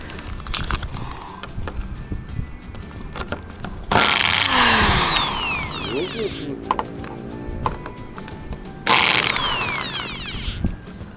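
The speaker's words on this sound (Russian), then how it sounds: "Дай мне дрель." A power drill driving screws whirs in two close, loud bursts of a few seconds each, its pitch rising and falling as the motor spins up and slows, with people talking in between.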